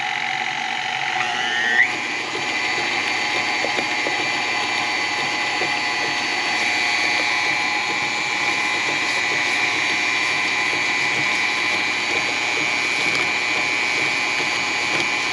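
An electric mixer whirs steadily through fruit cake batter flavored with lemon and orange zest, giving a continuous close motor drone with a brief bump near the start and no voices.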